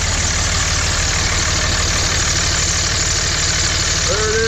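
A Dodge 5.9-liter Cummins 24-valve turbo diesel engine runs steadily at idle, its loud, continuous rumble carrying a knocking diesel clatter throughout, with a faint rising whine near the end.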